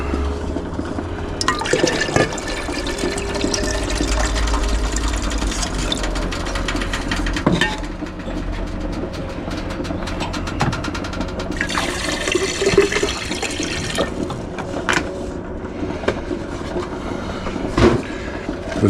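Liquid poured off from a container during gold recovery from transistors, a steady continuous pouring and splashing lasting many seconds with a few knocks and clinks, no talking.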